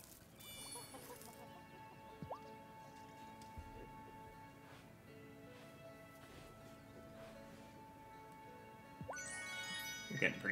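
Chickens cluck in a farming scene of the game Wylde Flowers, short soft clucks and chirps scattered over a low background, with a bright jingle near the start and end and a voice talking alongside.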